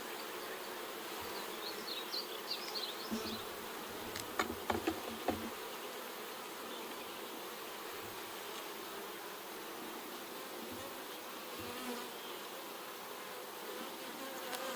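Honey bees swarm and hum around an open hive during a first honey harvest, a steady close buzz running throughout with a few brief louder passes and light clicks, no talking.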